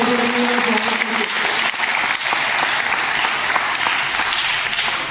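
An audience at a Guru Purnima celebration in a wrestling akhara bursts into loud, sustained applause, a dense continuous wash of clapping with a faint voice at the start.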